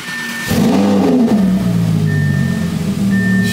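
Audi R8 with a new exhaust fires up from cold, a sudden loud engine catch that settles into a steady, throaty idle close by, with a faint high whine above it.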